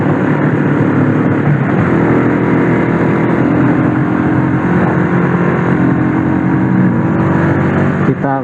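Vehicle engine running through its original stock exhaust, a continuous loud low drone with slight rises in revs, steady throughout and close by.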